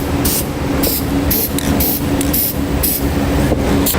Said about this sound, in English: I'm going to take a little bit of spray paint and just spray that edge